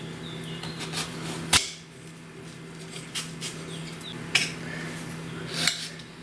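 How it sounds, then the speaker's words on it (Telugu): A knife cuts peeled cucumber into pieces, giving a few sharp, isolated taps against a board or plate spaced out over a quiet steady background hum. "దోసకాయని ఇలాగా పైన పొట్టు తీసుకున్న తర్వాత వీటిని ముక్కలుగా కట్ చేసుకోవాలి."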